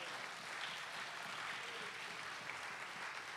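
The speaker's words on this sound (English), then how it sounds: "Let's give the Lord a great big praise clap for that." Church congregation clapping in praise, a steady dense wash of many hands throughout, moderately distant and fairly quiet, with no voices standing out.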